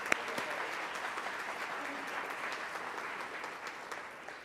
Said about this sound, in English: Let's have a round of applause for all of them.